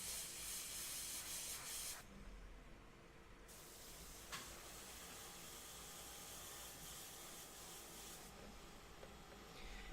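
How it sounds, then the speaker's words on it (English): An airbrush sprays paint onto a portrait, laying down the hair in varied values: a steady, close hiss that runs nearly throughout, briefly dropping and shifting in tone as the trigger is eased and pressed again. "Notice I'm not just spraying the hair one value."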